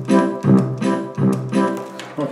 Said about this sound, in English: so that's why you're hearing that tuba sound and the drum sounds